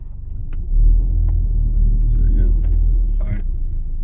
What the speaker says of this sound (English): Let me just park here.